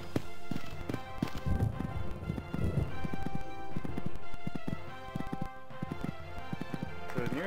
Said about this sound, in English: This horse is jumping well for her.